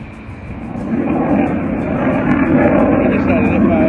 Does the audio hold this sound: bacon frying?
no